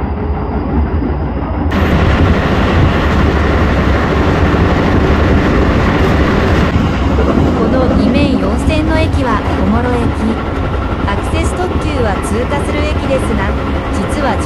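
Hokuso Line train departing Shin-Kamagaya station on an elevated line, a steady loud rolling rumble with rising motor whine and rhythmic clatter as it gathers speed, heard from onboard.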